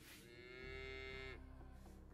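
A cow in the video game Yaga gives a single long, close moo that swells and then cuts off, with no talking.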